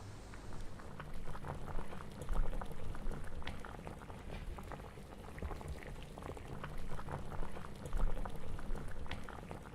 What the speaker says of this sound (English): Allow this to simmer on low flame for at least 15 to 20 minutes or till the vegetables are perfectly cooked.